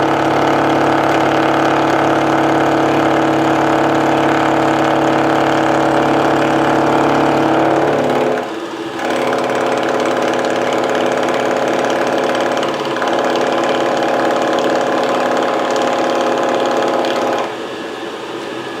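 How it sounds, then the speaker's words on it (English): A 2 horsepower milling machine runs a fast milling cutter with a steady, loud mechanical drone, its tone dropping and shifting briefly around the midpoint before continuing, with no talking. "there's nothing to love about running a fast milling cutter"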